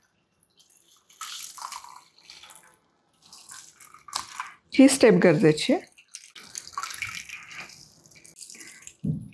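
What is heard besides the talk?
rinsing paneer under running water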